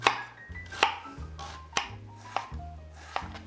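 A knife chops red onion on a board, landing several sharp, close, evenly spaced cuts about once every half-second with no one talking.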